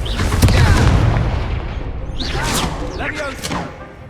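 A Confringo fire-blast spell explodes in Hogwarts Legacy, heavy rumbling booms and crackling blasts close and loud, fading over a few seconds with a voice and other game effects layered over them.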